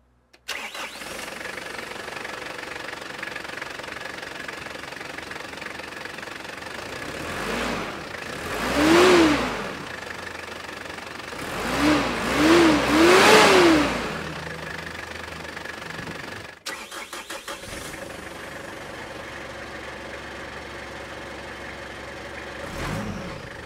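A 1997 Mitsubishi Pajero with a 2.8-litre turbo diesel cranks and fires up, blips its revs in a few loud surges, then settles into a steady, knocking diesel idle heard up close.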